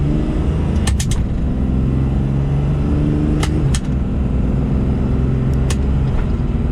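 A truck fitted with a CRT 48RE reverse manual transmission rumbles steadily from inside the cab while driving, a loud continuous engine drone with a few sharp clicks and knocks.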